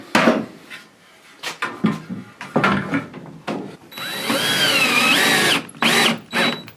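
A power drill drives the first screw to mount a Viega PEX manifold, with a rising, whirring motor burst of about two seconds, close and loud, after several short thumps and knocks of handling.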